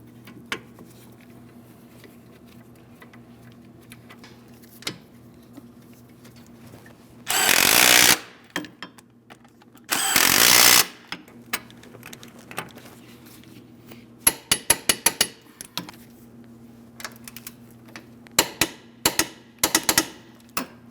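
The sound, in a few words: tightening brake caliper mounting bolts on a Chrysler 300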